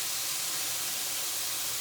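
Semi-thawed peppers sizzling in a skillet over sautéed onions and garlic, moisture steaming off in a steady, even hiss that runs close and continuous without pause.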